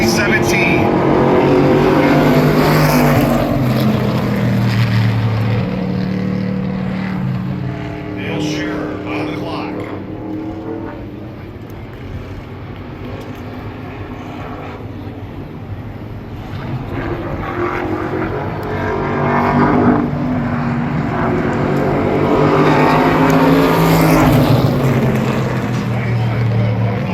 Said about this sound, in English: Dale Shearer, the next driver to take time here in General Tire Pole qualifying